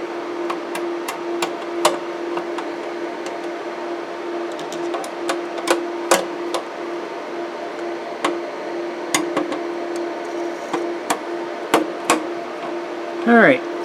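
Screws being tightened inside a computer case give a string of sharp, close metallic clicks and taps at irregular intervals, set over a steady electrical hum.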